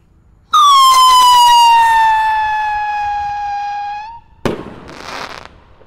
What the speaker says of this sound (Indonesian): di sini ada roket Roman Candle yang warna merah, piro roket kembang